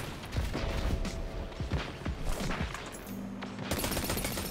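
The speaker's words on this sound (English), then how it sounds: "Hello, person that is shooting me with your gun." Rapid gunfire from a hand cannon and other weapons in the Destiny 2 shooter game, loud bursts of cracking shots and impacts crowding the whole span over a busy battle mix.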